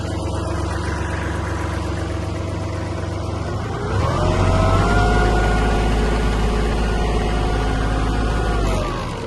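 Kubota KL-300 mini tractor engine idling steadily, then throttled up around four seconds into a louder, higher, sustained rev that holds close and strong with no voices.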